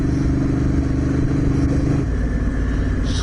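A motorcycle rides along the road with a steady, loud engine drone and wind rush heard from the bike itself, its pitch shifting slightly partway through.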